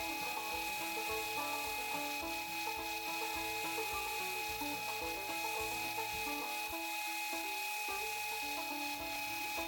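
A belt grinder with a platen backer grinds a hardwood knife handle, giving a continuous abrasive whir with steady motor hum and shifting rubbing tones as the wood is pressed into the belt, fairly faint and constant throughout.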